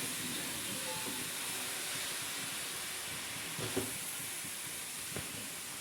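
Spices sizzle in hot oil for a tadka, a steady, fairly quiet hiss with a few faint clinks and knocks.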